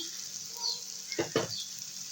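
Chopped garlic frying with bitter gourd, a faint steady sizzle broken by two quick close scrapes of a spatula in the pan.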